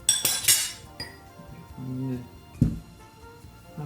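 A spoon clinks against a dish a few times while quiche with diced ham is prepared, bright metallic taps close by among kitchen handling noises, with a voice speaking briefly.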